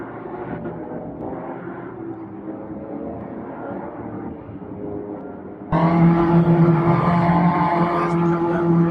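Sim racing cars on a track idle and rev as they warm their tyres in a video game, a steady engine drone that suddenly jumps louder and brighter partway through, with no speech.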